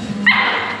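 A puppy just out of its bath gives a single sharp, high yip-like bark, close and loud, over a steady background hum.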